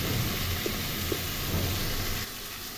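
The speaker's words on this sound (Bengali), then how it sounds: "এখন ভালো করে ভেজে নেব।" Onion and small-cut eggplant frying with cumin, coriander, turmeric powder and salt in a pan for a small fish curry, giving a steady close sizzle with faint crackles throughout, then dropping quieter near the end.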